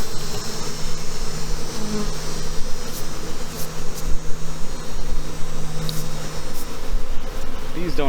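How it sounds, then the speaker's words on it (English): Honey bees buzz loudly and steadily around an open hive box during a honey harvest, making a dense, close swarm drone with no talk over it. "Bees don't always like it when you throw a brush onto them."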